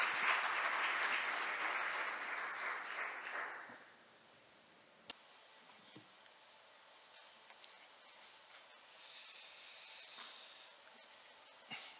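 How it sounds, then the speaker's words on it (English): Audience applause at an international IP court conference, a steady patter of many hands for about four seconds that fades out, followed by quiet room noise with scattered small clicks and faint rustling. "them a big round of applause."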